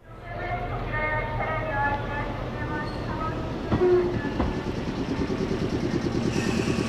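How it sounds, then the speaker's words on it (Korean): A train pulls out of a station on a departure bound for Gyeongju, South Korea: a steady, loud rumble with rhythmic wheel clatter that builds and quickens toward the end, with a brief tonal squeal partway through. "드디어 경주행 열차가 출발하는 기차역."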